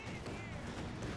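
Mortar and artillery fire in the World War II strategy game Company of Heroes 2 forms a dense, rumbling battle din, with a voice talking over it.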